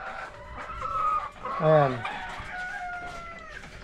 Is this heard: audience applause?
no